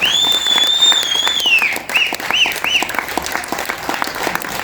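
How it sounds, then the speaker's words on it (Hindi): A crowd at a Vijay Diwas business gathering claps loudly and densely, with a sharp, sliding whistle-like tone ringing over the first part of the applause and a few short chirps after. "एक बार जोरदार तालियां आप लोगों के लिए होनी चाहिए"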